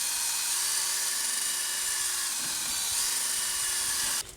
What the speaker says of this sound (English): You can also just use like a little wire wheel like this on a drill.